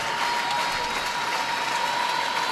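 Volleyball crowd at a Michigan home match rising to its feet before a set point serve, a dense, steady roar of cheering and clapping that fills the arena without a break.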